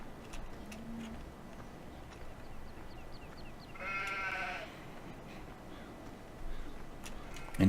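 Sheep in Farming Simulator 2017 give a brief cluster of bleats around the middle, set in a steady farm ambience with a louder thump at the very end.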